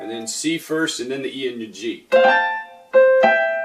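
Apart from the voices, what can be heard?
No everyday noise stands out behind the speech.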